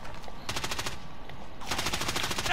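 Rapid automatic gunfire in Warzone, two sustained bursts of close, loud rattling shots with a short pause between them, over a steady background rumble.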